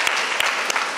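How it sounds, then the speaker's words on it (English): A school debate audience claps steadily for a competing team, a dense burst of applause from a sizable crowd with a few sharper claps standing out. "Please give them a round of applause."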